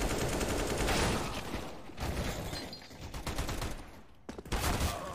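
Rapid pistol fire during a fast pistol-round rush in Counter-Strike: Global Offensive, dense overlapping loud shots with brief pauses, ending in a short sharp burst.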